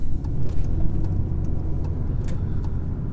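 A 2018 VW Golf with a DSG gearbox pulls away from a junction at half throttle, its engine a steady low hum under broadband road and cabin noise, heard from inside the car.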